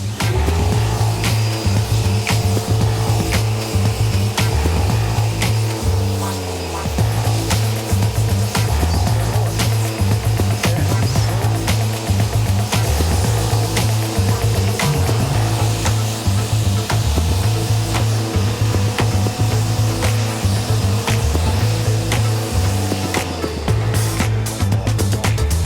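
A pressure-washer spray rinses a car during detailing: a loud, steady hiss with a constant motor drone beneath it, continuous and close, with no talking.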